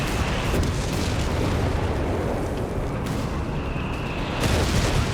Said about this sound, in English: Artillery joining in